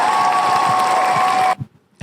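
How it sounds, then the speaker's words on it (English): A burst of crowd applause and clapping plays for about a second and a half, then cuts off abruptly into near silence. "Applause, applause, applause,"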